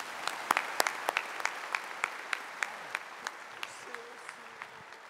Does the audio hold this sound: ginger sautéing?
no